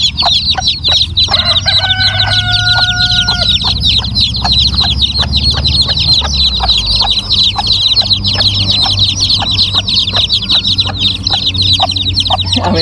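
A flock of chickens clucks densely and continuously up close, while a rooster lets out a drawn-out crow early on, with no voices present.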